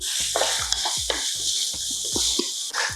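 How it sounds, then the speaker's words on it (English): Onions cook in butter in a pan for a crab and prawn bake, with a constant bright sizzle broken by a quick series of scraping stirs and light clatters. The sound is close and there is no talk. "Okay, we'll cook our onions for a few minutes."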